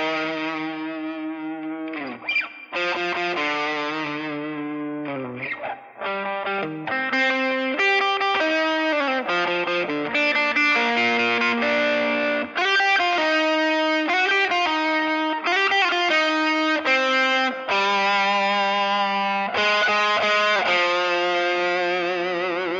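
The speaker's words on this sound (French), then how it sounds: "Sébastien nous faire un 20 secondes de la 5e symphonie de Beethoven à la guitare électrique avec la distorsion?" Beethoven's 5th Symphony is played solo on an electric guitar through heavy distortion, with loud sustained chords and notes broken by short pauses.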